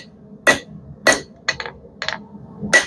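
A 1.5 pound hammer strikes steel while a chain hook is forged, giving five sharp, ringing metallic blows at an uneven rhythm, close and clear with no talking.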